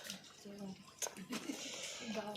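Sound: washing boiled pointed gourds in water

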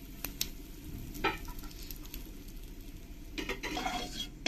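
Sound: panch phoron, dried chillies and bay leaf sizzling in oil

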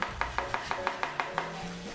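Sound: cutting carrot into julienne strips

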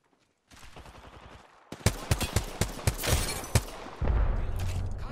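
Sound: gunfire in a video game, player taking shots

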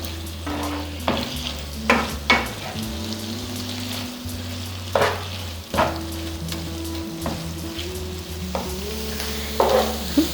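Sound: beef frying on high flame, water cooking off

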